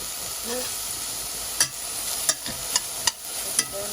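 Vegetables for pasta sauté in a pan with a steady close sizzle and hiss, broken by several sharp clicks and scrapes from stirring and a faint voice early on.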